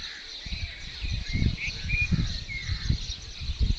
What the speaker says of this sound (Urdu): کتنے پرندوں کی آوازیں آ رہی ہیں